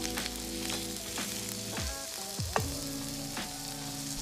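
Vegetable uttapam cooks on a hot pan with a soft, steady sizzle, faint and close, alongside a few light tonal clinks and scrapes, with no talking.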